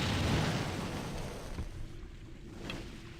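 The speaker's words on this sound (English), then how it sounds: "can actually hear some explosions. That's the fire elementals." Deep rumbling booms from fire elementals exploding in Thief: The Dark Project, a dense low roar fading over a few seconds with a softer thump midway, set in a lost city.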